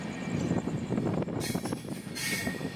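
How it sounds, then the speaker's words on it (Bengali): The Agartala–Deoghar Weekly Express rumbles along the rails with a dense, continuous clatter of wheels, broken by bursts of high metallic squeal from the train. "ট্রেন আগরতলা স্টেশন ছেড়ে রওনা হওয়ার কিছুক্ষণের মধ্যেই বজ্রবিদ্যুৎ সহ বৃষ্টি শুরু হয়ে গেল।"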